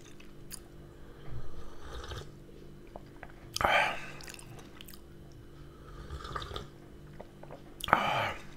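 Someone eats fried potatoes, with soft close-up chewing and a couple of louder crunchy bites standing out over a quiet room background.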